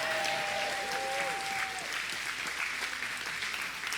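Steady applause from a room full of people at a church service fills the space, with a whistle rising over the clapping near the start.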